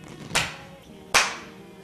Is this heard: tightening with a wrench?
no